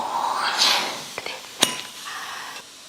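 A metal puttu steamer pot is opened to take out freshly steamed puttu, giving a few light metallic clinks and a sharp clank against a soft background hiss.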